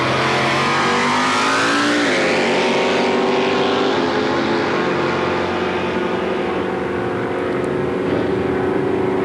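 Drag racing cars, one of them a Camaro, roar off the line at a 1984 mountain motor drag event at Budds Creek, Maryland, the engines screaming and climbing in pitch as they accelerate, loud and continuous.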